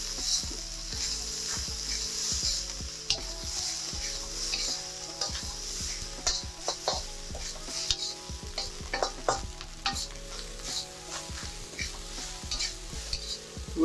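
Fried rice with maple syrup and oyster sauce sizzles in a hot pan as it is tossed and stirred, a steady frying hiss broken by repeated scraping and clattering knocks of the utensil against the pan.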